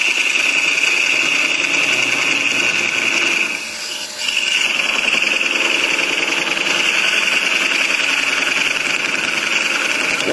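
A parting tool cuts into a wooden vase spinning on a lathe, giving a loud, steady rattling drone that dips briefly before resuming.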